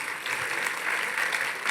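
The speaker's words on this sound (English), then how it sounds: "A big round of applause, please." An audience at a medical CME event breaks into steady, continuous applause, an even crackling wash of many hands clapping at a moderate level throughout.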